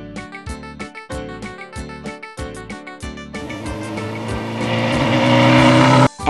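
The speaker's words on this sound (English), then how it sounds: "M for motorcycle." A motorcycle engine blips in quick, evenly spaced revs, then roars into a sustained, rising acceleration that grows louder before cutting off abruptly.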